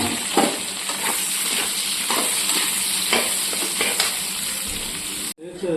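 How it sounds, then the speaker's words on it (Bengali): Soybean chunks fry in leftover oil in a pan, giving a steady, loud sizzle with occasional stirring scrapes that breaks off abruptly near the end. "অবশিষ্ট তেল আছে, এতে সয়াবিনটাকে ভেজে নিচ্ছি।"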